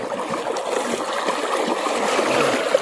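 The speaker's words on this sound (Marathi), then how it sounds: "पाणी एकदम सुसाट येतंय वरून" Forceful water pouring down from above beside a creek in the Konkan countryside, a steady broadband rush and splatter with no pause, loud and close throughout.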